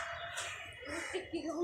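A native farm rooster crows among free-range chickens, its call rising and stretching out over about a second and a half, fairly clear against a light background.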